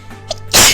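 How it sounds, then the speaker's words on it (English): A person's sneeze, a brief intake of breath followed by a loud, abrupt close burst at the end, alone without talk. "I feel I'm gonna sneeze."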